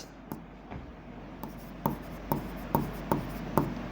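A teacher writes working notes on a board, a series of short scratchy strokes and taps in a roughly regular rhythm, quiet and close, with a faint steady hum behind.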